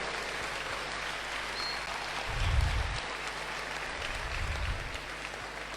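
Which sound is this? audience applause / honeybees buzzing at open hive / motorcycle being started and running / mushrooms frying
audience applause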